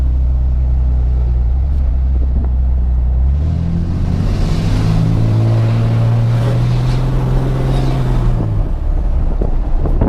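A turbocharged car drives with the windows down. The engine rumble swells as it accelerates, close and loud, and a rising turbo whistle sits above it before everything settles back.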